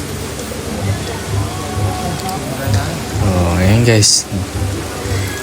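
Steady rain falling outdoors at a crowded cathedral in Dipolog City, a dense even hiss throughout, with someone talking over it and a brief sharp tone near the end.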